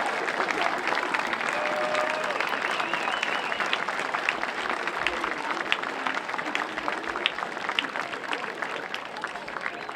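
At a community night for a high school marching band, the audience at the field gives the marching band a big round of applause, a broad, steady wash of clapping and crowd noise that continues evenly from a distance with faint voices mixed in.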